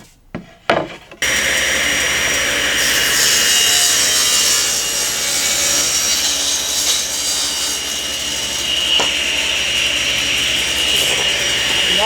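Saw cutting a wooden board to width for a step stool: a few knocks, then a loud, continuous, close rasping cut lasting about ten seconds without pause, no voices.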